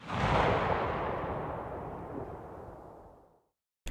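A redesigned Barrett sniper rifle shot from the Battlefield 2042 Hazard Zone trailer: one loud, heavy blast followed by a long rumbling tail that fades out over about three seconds, with nothing else in the sound.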